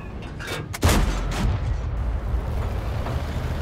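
A heavy tank cannon blast in a video game booms once, followed by a lingering rumbling roar that fades slowly.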